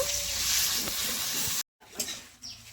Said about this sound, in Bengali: আমি ভালো করে পাতাটা ভেজে নেব